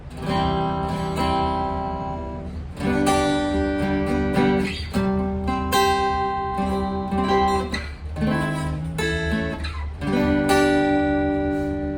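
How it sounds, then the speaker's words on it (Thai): Clean electric guitar played straight through an amp with no effects, with strummed chords and picked notes in loose bursts, fairly loud and close, with no voices. "อันนี้เสียงกีตาร์จากตู้ลำโพงเลย โดยไม่ผ่านเอฟเฟกต์นะครับ"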